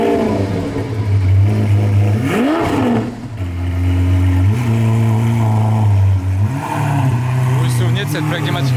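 Mercedes S63 coupé with a Mansory exhaust revving hard, several loud rising and falling blips close by, with someone talking over the engine.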